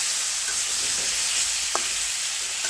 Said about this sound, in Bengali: শিং মাছটা খুব সুন্দর করে ভেজে নিচ্ছি